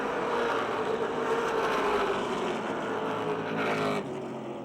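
Chevrolet and Ford stock cars race at Motordrome Speedway. Engines make a continuous, moderately distant roar from the pack, which dips slightly near the end.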